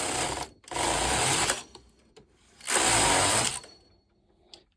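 A Japanese home knitting machine with a ribber carriage, knitting plain ribbing rows: two long loud whirring carriage passes, each cut off abruptly, with clicks between and a faint click at the end, no talk.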